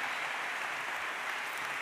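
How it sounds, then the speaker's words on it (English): Audience applause for speaker Benedikt Böhm at the MCI Student Welcome 2024, a steady dense wash of clapping from a large crowd that holds evenly through the whole short stretch. "Think that deserves an applause."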